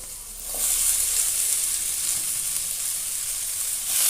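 Pumpkin greens hit hot oil in a frying pan with a steady, close sizzle and hiss, a brief clatter as they drop in, then continuous frying with no talking.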